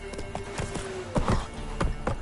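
Hoofbeats of Roach, a horse in The Witcher video game, drum close and loud in a quick galloping rhythm, each clop sharp and distinct, with a short whinny and no talking.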